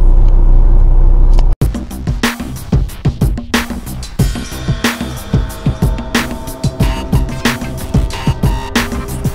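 A 22-year-old Land Rover Discovery 2 drives a green lane on the North York Moors. A loud engine rumble cuts off abruptly, then close, bumpy engine noise follows with rhythmic knocks and jolts throughout.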